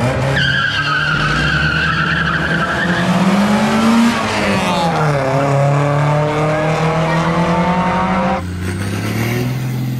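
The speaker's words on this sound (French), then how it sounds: "ces gens avec leur voiture commune hein, font la course." Ordinary street cars racing in Maracaibo, Venezuela: engines rev hard and tires squeal continuously, close and loud, with pitch rising and falling as the cars accelerate and skid, and a brief shift near the end.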